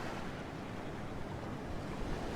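Ocean waves wash steadily onto a beach in a broad, continuous hiss with some wind noise, fairly faint and with no talking.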